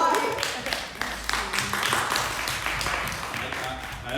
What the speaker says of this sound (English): You're round of applause for that.